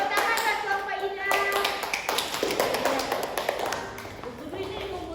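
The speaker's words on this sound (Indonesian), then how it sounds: "Tepuk tangan buat Kelompok Ina." A school class applauds a presenting group during a microteaching session, giving a sharp, close round of clapping with scattered fast taps, tapering slightly toward the end.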